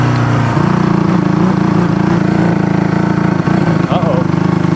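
A Honda CB200T motorcycle with a broken camshaft running on after a downshift, its engine note dropping into a steady, loud, close throb with faint rough wavering near the end.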